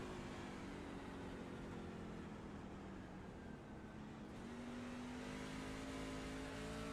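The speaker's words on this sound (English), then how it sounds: "I'm going to go out on a limb and say all these drivers are downshifting" Race trucks at New Hampshire drone past with engine notes dropping and shifting as they downshift, a steady loud engine roar with pitch changes over the whole stretch.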